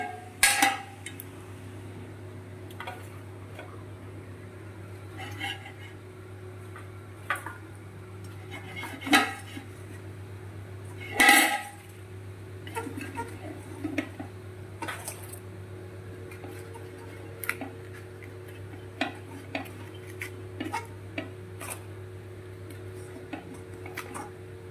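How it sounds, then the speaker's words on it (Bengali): Luchis being put into a pot and covered with a lid in a home kitchen, heard as sporadic metallic clinks and clatters of utensils against the pot over a steady low hum, with a couple of louder knocks. "লুচিগুলোকে হাঁড়ির ভিতর ভরে ভালো করে ঢাকনা দিয়ে দিলে লুচিগুলো নরম থাকবে"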